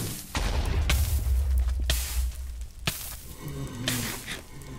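Several booming blasts of Minecraft creepers exploding in a video game, deep rumbling thuds in quick succession over a loud continuous background.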